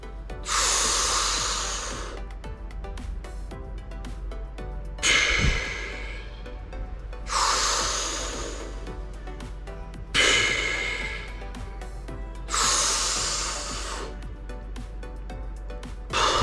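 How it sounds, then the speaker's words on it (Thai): Breath-hold training: a person takes sharp, forceful breaths and exhales close to the microphone, the gusts of air recurring about every two to three seconds over a steady low hum. "อันนี้เดี๋ยวผมจะกั้นหายใจก่อนนะสักห้าวินาที แล้วก็เดี๋ยวผมจะปล่อยออกมา"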